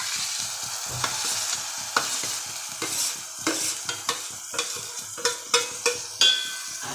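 Moong beans and potatoes being stirred in a frying pan, a spoon scraping the metal in steady repeated strokes over a soft continuous sizzle, close and clear with no talking.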